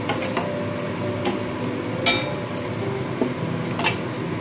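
Coconut paste going into a pot of pointed gourd curry and being mixed, with sharp metallic spoon clinks and taps against the pot at an uneven rhythm, close by, no talking.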